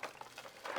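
A thin plastic shopping bag crinkles briefly, close by, in a short burst of rustling and crackling lasting under a second, with no talk.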